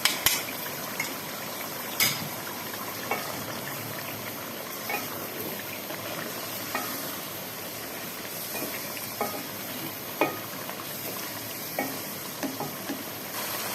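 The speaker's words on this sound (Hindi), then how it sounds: "लहसुन अदरक का पेस्ट हमने शामिल करके अच्छी तरह भून लिया है।" Boneless chicken fried in a pan with ginger garlic paste for a white karahi gives a steady, close sizzle, with soft stirring clicks and scrapes now and then.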